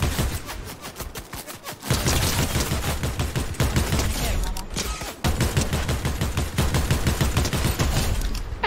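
Fortnite gunfire in loud continuous bursts, dense rapid shots close up with a brief lull near the start before the firing resumes hard.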